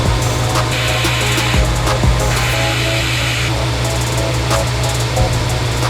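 Engine valve parts for a fully forged race engine are sanded down in a sanding room, a loud, steady mechanical whir with a strong low hum and scraping, rubbing passes and a few sharp knocks.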